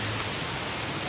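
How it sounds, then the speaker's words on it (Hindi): Heavy rain pours down steadily in a dense, unbroken roar, loud and close, with no voices. "ये देखिएगा बारिश बहुत ज़्यादा तेज़ हो गई है"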